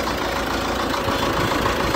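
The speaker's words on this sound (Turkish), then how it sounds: "Traktörümüz Yadigarlardan Ford 6600 gördüğünüz gibi." An old Ford 6600 tractor engine running steadily nearby, a continuous even mechanical rumble with no change in pace across the whole stretch.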